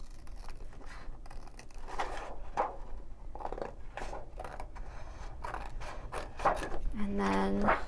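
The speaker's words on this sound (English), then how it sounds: "Okay, so I'm just going to use my paper scissors to cut this out." Scissors snip through paper in a quick series of crisp, close cuts, with faint rustling between strokes.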